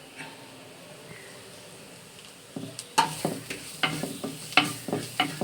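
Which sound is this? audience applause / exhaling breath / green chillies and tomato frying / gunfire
green chillies and tomato frying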